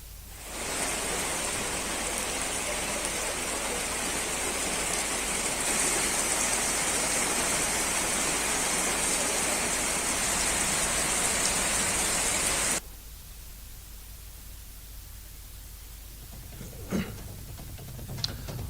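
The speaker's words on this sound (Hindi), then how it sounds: "कई जिलों में तेज बरसात के साथ ओलावृष्टि ने ठंड बढ़ा दी।" Heavy rain with hail across districts of Rajasthan, heard as a loud, steady, dense roar that cuts off abruptly to a quieter hiss, with a couple of faint knocks near the end.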